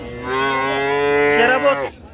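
A single loud, close moo from a milking cow at a livestock market, drawn out for nearly two seconds before it breaks off.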